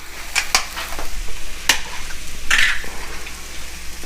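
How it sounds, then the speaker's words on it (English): Butter added to a hot pan sizzles steadily, with a few sharp clinks of a utensil against the pan in a home kitchen, close and moderately loud. "We're gonna add some butter."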